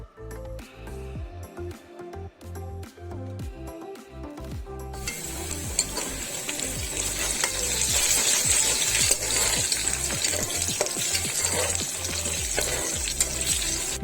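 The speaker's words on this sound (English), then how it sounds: "Fry the onions in the hot oil" Onions fry in hot oil in a cooker, a quiet start giving way at about five seconds to a loud, steady sizzle with occasional stirring clinks, no talking.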